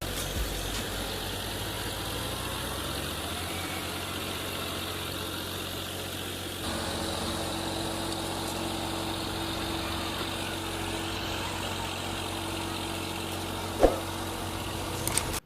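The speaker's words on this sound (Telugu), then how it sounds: "ఈ మిషన్ లోపల ఉన్నటువంటి గ్రైండర్ని బాగా తిప్పాలి" Brick-making machine at a clay brick factory, its internal grinder driven by a tractor engine, drones in a continuous low mechanical hum with a sharp clunk near the end and no talk.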